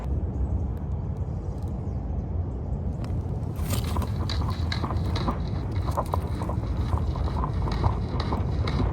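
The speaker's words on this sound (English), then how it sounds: "going to see if I can hear it rattling" A loose object rattles and scrapes inside a pipe at a 90-degree bend near a wall, producing rough clattering bursts that start a few seconds in over a steady background rumble.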